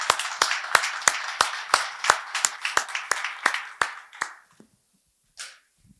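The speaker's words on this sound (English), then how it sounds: "please, a round of applause for these guys, all three of them." A small seminar audience claps briefly, a dozen or so distinct, sparse claps in quick succession that thin out and stop after about four seconds, close and moderately loud.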